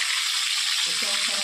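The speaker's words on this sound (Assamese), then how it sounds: "এতিয়া কেৰাহীখনো পাতি তেল গৰম হৈ গ'ল, মই মাছটো দি দিছোঁ।" A fish sizzles as it is laid into hot oil in a wok, making a brief, close, bright crackling hiss.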